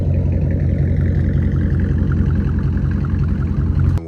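A 5.7-liter Hemi V8 in a pickup truck runs with a deep, steady, throbbing rumble at close range. The sound holds an even pulse before cutting off abruptly just before the end.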